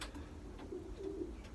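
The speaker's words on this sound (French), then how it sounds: "c'est un pigeon d'une très grande qualité" A Dutch racing pigeon from 2014, a high-quality male, gives low soft coos in two or three short bursts, close by and fairly quiet against a faint background.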